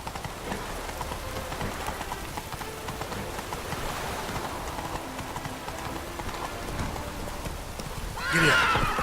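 Roach the horse gallops in The Witcher 3, a fast continuous clip-clop of hooves under a steady soft rush, ending with a loud close whinny near the end.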